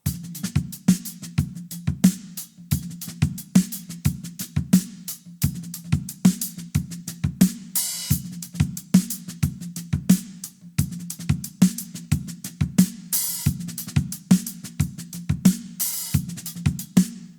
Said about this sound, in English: The last groove. Groove number 5